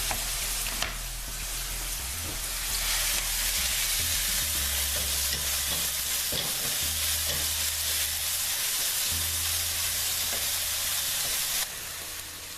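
Chopped onions sizzle steadily in a hot pan for a chicken curry, a loud continuous frying hiss with no talking.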